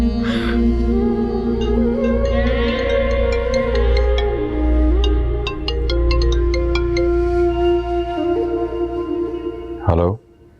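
A phone ringtone for an incoming call plays loud and close as a melodic electronic tune with repeating tonal phrases, then cuts off abruptly near the end.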